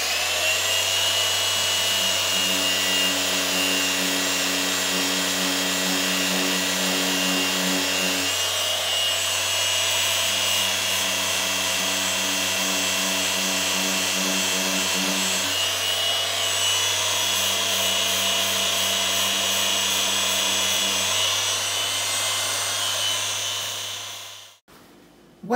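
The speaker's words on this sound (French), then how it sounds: "J'ai été chercher la ponceuse." An electric power sander whirs loudly and steadily on plastic, its pitch shifting in three long passes as it grinds against the surface, then cuts off abruptly.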